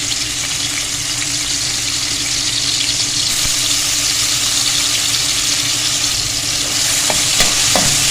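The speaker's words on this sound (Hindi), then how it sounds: "अदरक लहसुन को बस इतना ही फ्राई करेंगे हम" Ginger-garlic paste sautéing in about four tablespoons of hot oil, a loud steady hissing sizzle throughout with a few brief stirring scrapes near the end.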